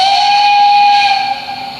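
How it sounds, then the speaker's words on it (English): A shrill whistle from an MTH Imperial 0-6-0 model steam switcher locomotive's sound system sounds in one steady, loud blast for about two seconds, then tapers off slightly. "Here's the whistle."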